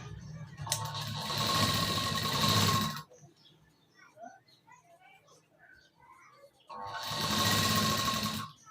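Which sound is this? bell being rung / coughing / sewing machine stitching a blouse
sewing machine stitching a blouse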